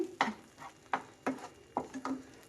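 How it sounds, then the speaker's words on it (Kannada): An onion chutney mixture fries on a medium flame. Several distinct, regular stirring scrapes and clinks of a spoon against the pan sit over a faint, low sizzle, close by and with no voices. "ಇದೇ ಥರನೇ ಫ್ರೈ ಮಾಡಬೇಕು ಮೀಡಿಯಮ್ ಉರಿ ಇಟ್ಬಿಟ್ಟು ನೀವು ಫ್ರೈ ಮಾಡಿ"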